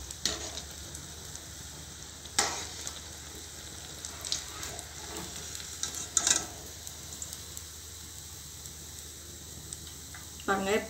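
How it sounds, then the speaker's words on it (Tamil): Paneer bread rolls fry in hot oil with a steady, close sizzle, broken by sharp clinks and splashes, likely from a utensil moving them around in the pan. "இப்போ நல்லா ஃப்ரை ஆகிடுச்சு பாருங்கள், போட்டு கொஞ்சம் நேரத்துலேயே சீக்கிரமாக ஃப்ரை ஆகிடுச்சு."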